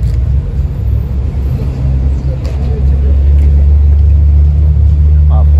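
A rare red Lexus LC 500 sports car rumbles past at a car-spotting gathering, its deep engine note swelling louder toward the end amid street noise and nearby voices.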